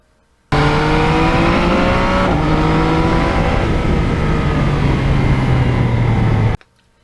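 A 2020 Yamaha MT-09 motorcycle drones loudly on the road, with a steady rising engine hum, a gear shift partway through and sustained wind rush, then it cuts off abruptly.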